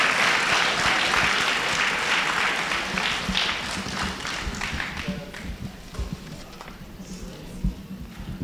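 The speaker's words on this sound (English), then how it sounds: "a round of applause for both of them once again" A round of applause from a ceremony audience, loud dense clapping at first that gradually thins and fades over several seconds, with no voices over it.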